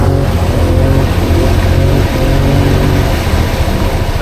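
A loud, close engine on an off-road vehicle drones steadily while mudding through a clay swamp in four-wheel drive, a continuous low roar with no pause throughout.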